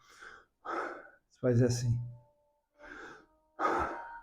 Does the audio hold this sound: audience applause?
no